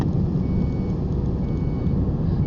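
A truck (lorry) sounds its reversing alarm, a steady repeating beep over a loud, continuous low engine rumble close by, with no talking.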